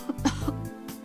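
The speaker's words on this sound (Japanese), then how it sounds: "これ咳込んでるでしょ。" A character coughs in the Famicom Detective Club video game on Nintendo Switch, a short cluster of three quick coughs close and clear, with no talk over it.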